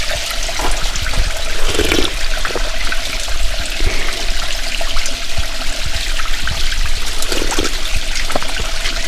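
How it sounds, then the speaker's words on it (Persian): Spring water flows steadily out of mountain rocks, a loud, close, continuous rushing and splashing stream with no talking over it. "از دلی از این کوه ها و سنگ ها این آب بیرون میشه"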